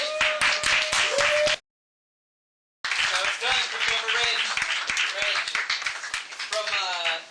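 Comedy club audience applauding in a New York club, dense clapping that breaks off into a brief silence, then resumes as a sustained burst with faint voices mixed in.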